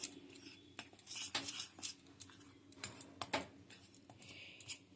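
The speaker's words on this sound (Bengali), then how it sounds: "নুন হলুদ আর বেসন এই তিনটে আমি ভালো করে মিশিয়ে নিচ্ছি" Gram flour, salt, turmeric and water are stirred together in a bowl for motichur laddu batter, with a spoon making irregular close clinks and scrapes against the bowl and no speech.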